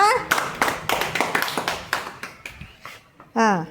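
Children in a second-grade Telugu classroom clap hard in a fast, steady burst of sharp hand claps that fades out, followed by a brief voice at the end.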